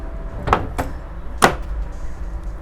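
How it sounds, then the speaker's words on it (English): A sliding door aboard a Sanlorenzo SX76 yacht opens with three short, sharp clunks and rolling thumps spaced over about a second, close and moderately loud against a steady low onboard hum. "this sliding door can be opened fully like this"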